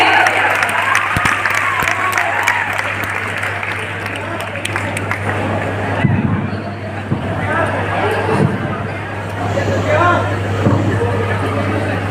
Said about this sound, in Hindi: जोरदार तालियां यासिर अहमद के लिए